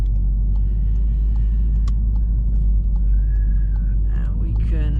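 A VW Golf R MK7 on a point-of-view drive fills the clip with a constant loud low engine and road rumble, steady throughout with brief higher whines near the end.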